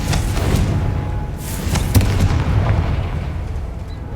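Fiery Confringo spell blasts explode in the Hogwarts Legacy video game as a few sharp booms over a loud, rumbling background, the strongest burst near the middle.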